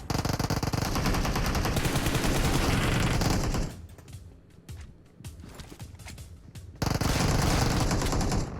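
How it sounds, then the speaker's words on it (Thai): Rapid automatic gunfire in PUBG Mobile crackles in loud, dense bursts, then drops to sparse, quieter shots for a few seconds before a second loud sustained burst. "ใครยิงอ่ะ"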